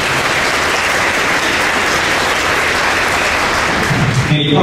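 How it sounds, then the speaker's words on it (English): An audience at a Marine Corps JROTC birthday celebration breaks into sustained, loud applause, a dense steady clatter of clapping that fades slightly at the end. "So round of applause for these folks and their tremendous support."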